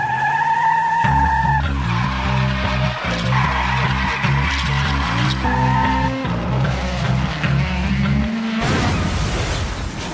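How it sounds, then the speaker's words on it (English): A Carrera GreenGT H2 slot car, modelled on a hydrogen fuel cell racing car, races around its track with a loud, continuous whining motor that shifts pitch in steps and squeals as it runs. "This is the Carrera GreenGT H2, and this is based on a racing car powered by a hydrogen fuel cell"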